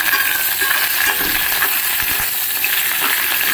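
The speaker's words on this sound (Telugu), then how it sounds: "ఇప్పుడు మిర్చిని అయితే యాడ్ చేస్తున్నా ఏవి ఫ్రై చేసినా లో ఫ్లేమ్లో పెట్టి మాత్రమే ఫ్రై చేయండి" Green chillies frying in hot oil over a low flame for a prawn curry, a loud, close, unbroken sizzle with light stirring running through the whole stretch.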